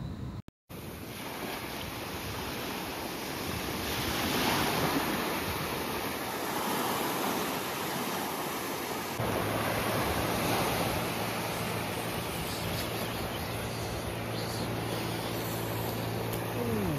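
Sea waves rolling onto the beach at Diveagar, a broad continuous wash of surf mixed with wind buffeting the microphone, with a faint low engine-like hum in the later part.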